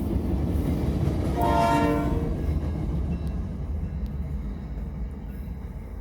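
A train horn sounds one sustained blast over the steady rumble of a passing train, loud and fairly close, with no voices.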